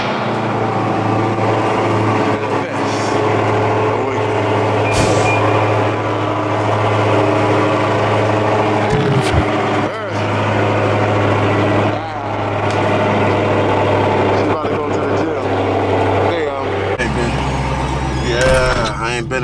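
A Ferrari engine idles with a deep, steady rumble close by for about twenty seconds, its note shifting near the end, while people talk over it.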